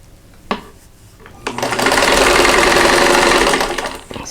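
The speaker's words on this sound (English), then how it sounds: "So I want to sew 2 together." An electric sewing machine stitches two straw flower quilt block pieces together. A couple of sharp clicks come first, then a steady, loud run of fast stitching for about two seconds that slows and stops.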